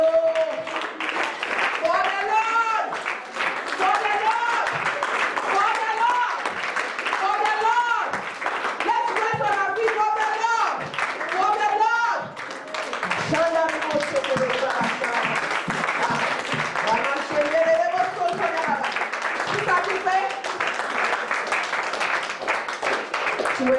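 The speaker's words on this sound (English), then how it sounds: "Let's clap our hands for the Lord." Prayer meeting congregation clapping their hands together for the Lord, a sustained steady wash of clapping running throughout alongside singing or chanting voices over it.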